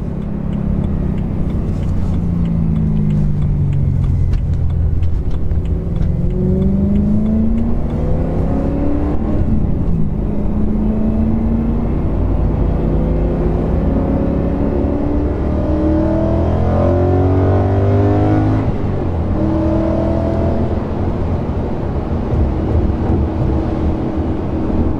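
A BMW E92 M3 fitted with American Racing headers drives under load, its engine droning loudly and steadily as it climbs and drops through repeated revs and gear changes, with wind buffeting the microphone throughout.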